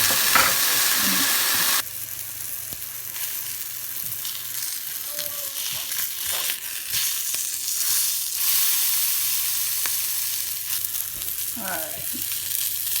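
Homemade pork breakfast sausage fries in a pan with a loud, close, continuous sizzle that drops slightly in level partway through, with light scraping and a brief word spoken over it.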